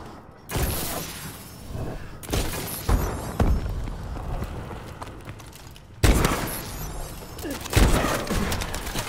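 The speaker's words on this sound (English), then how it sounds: "Sniper fire!" Video game sniper fire: heavy booming shots with sharp attacks, spaced several seconds apart and ringing out between them, with impact crashes and battle noise in between.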